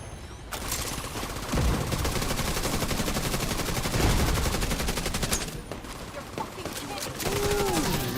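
Automated turrets in The Division 2 unleash sustained rapid gunfire, a dense continuous fusillade with occasional louder bursts, while a player talks over it.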